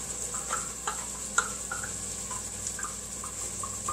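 Green chilies go into a hot oiled pan already coated with spices for a white bean chicken chili, giving a soft, steady sizzle broken by light clicks and scrapes of a utensil, no speech.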